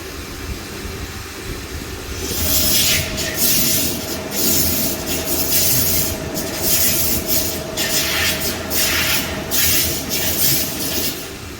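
A Protomax waterjet cutter runs with abrasive, a loud steady rushing hiss that starts after a quieter moment and carries on with a sustained tone and pulsing bursts of spray, close and without talk.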